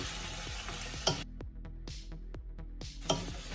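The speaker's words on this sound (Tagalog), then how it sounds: "And then, peppercorn, yung pamintang buo. And haluin lang natin." A utensil scrapes and taps rhythmically against a pan while chili and whole black peppercorns are stirred, with loud bursts of sizzling between repeated close, distinct strokes.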